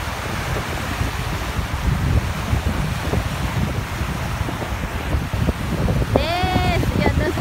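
Sea wind and waves roll in along an island shore, with strong gusts buffeting the microphone over a constant surf roar. A brief voice-like tone sounds near the end.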